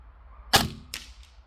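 A GF Prime airsoft replica fires a single sharp shot outdoors at a target, a crisp snap followed by a fainter second crack a moment later.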